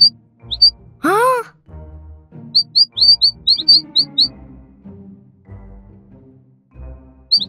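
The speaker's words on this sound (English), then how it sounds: "Two birds are making a nest on my head?" Two cartoon birds building a nest make short, bright chirps in quick clusters, with one louder warbling squawk, all mixed in with a character talking and soft background music.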